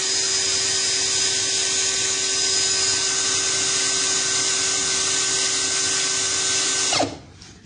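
A Dopard 16V brushless impact drill runs steadily at close range with a constant high whine and motor hum, then cuts off abruptly near the end.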